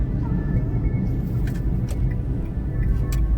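A car driving along, heard as a continuous low engine rumble with faint road noise and a few light rattles, steady throughout with no speech.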